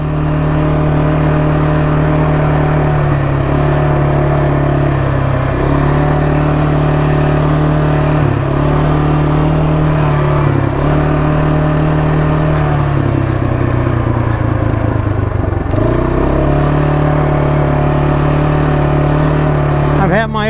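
Engine of a new Kawasaki 300 quad ATV during a break-in ride, a loud, steady mid-pitched drone heard close up with small rises and dips in revs throughout.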